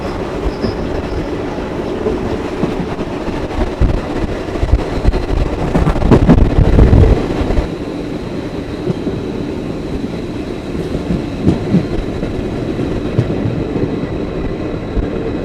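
A passenger train running from Angadippuram to Ernakulam via Shoranur Junction rumbles steadily on its rails, with rhythmic wheel clatter rising to a louder, rougher burst midway, heard from on board.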